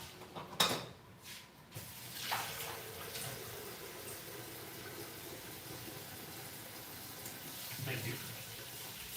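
Tap water running steadily in a home bathroom, a continuous close hiss with a few brief knocks and clatters near the start.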